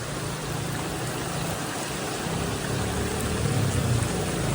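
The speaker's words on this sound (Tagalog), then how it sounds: "Laki ng ulan oh" Steady, dense rain hisses continuously, with a faint engine rumble underneath and no speech.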